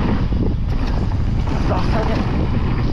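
Wind gusts across a ridge-top mountain bike trail at the Kouty bikepark, a steady rumbling buffet against the microphone that fills the whole stretch without letting up.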